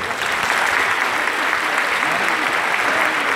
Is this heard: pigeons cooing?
no